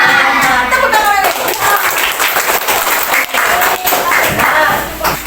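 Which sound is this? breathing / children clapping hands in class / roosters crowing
children clapping hands in class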